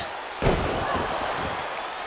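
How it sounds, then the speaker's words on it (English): A wrestler slams a knee down onto the mat at a wrestling tournament, giving a single heavy thud amid a noisy arena crowd with commentary talk running over it. "Frankenstein slamming the knee down right to the mat"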